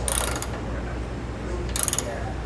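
A bolt is threaded by hand into the frame of a 2019 Ford Transit T350 during a trailer hitch install, giving two short bursts of rapid ratchet clicks over a steady low background hum.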